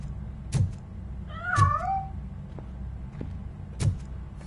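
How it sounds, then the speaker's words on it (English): A short, high cat meow from the video game Robocop: Rogue City rises and falls once, set among a few soft thuds and a low background hum, with no talking. "That cat must be hiding inside."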